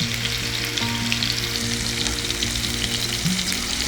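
Butter chicken pieces sizzle steadily in hot oil in a pan as each piece is turned over, a continuous close frying hiss with faint scrapes and no talking.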